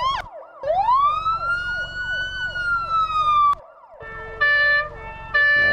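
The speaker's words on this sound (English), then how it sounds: "So we're just gonna put a better siren on this thing." A loud police siren in BeamNG gameplay wails with a rising, sweeping tone, cuts off briefly, then switches to a sharper, steady two-tone blare in bursts.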